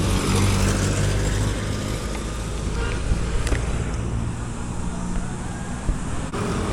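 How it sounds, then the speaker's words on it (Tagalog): A ship's engine runs with a steady, heavy mechanical rumble and broad droning noise that holds evenly throughout, with no clear speech over it. "Baka makina ng barko."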